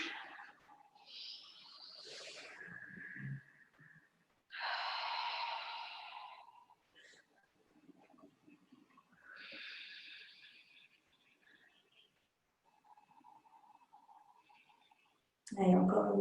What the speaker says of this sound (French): On peut faire une grosse expire par la bouche.